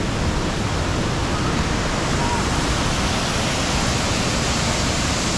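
Maranong Falls in Natividad, Pangasinan, running with a strong current, a dense close roar of falling water that stays loud and even throughout.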